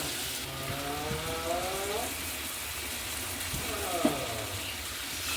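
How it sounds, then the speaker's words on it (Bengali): Fish frying in a pan of spice masala for a Bengali fish dish, a steady close sizzle that runs throughout, with faint voice-like tones and a brief clink partway through. "মশলাটাকে ভালো করে কষিয়ে নিতে হবে তারপরে এর মধ্যে দিয়ে দেব মাছগুলো"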